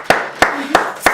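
A church congregation claps in acclamation during a French-language sermon, four loud, sharp, evenly spaced claps at a steady rhythm, close and clear with a faint tone lingering underneath.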